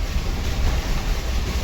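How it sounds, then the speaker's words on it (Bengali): A passing train makes a continuous, fairly loud rumbling roar that holds steady throughout, with no voices over it. "আর ট্রেন এখনো যাচ্ছে"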